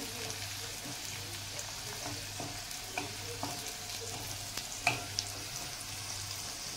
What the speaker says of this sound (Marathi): कारण ऑलरेडी तो तेलामध्ये फ्राय झालेलाच असतो लसूण आपला।